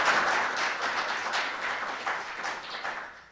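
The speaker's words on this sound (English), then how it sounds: "Let's give them a quick round of applause before we get started." An audience claps in a warm, sustained round of applause that gradually tapers off.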